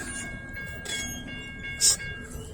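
An eastbound CSX freight train rumbles through a downtown Lynchburg, Virginia railroad crossing at close range, with rail clatter and a brief high metallic squeal near the end.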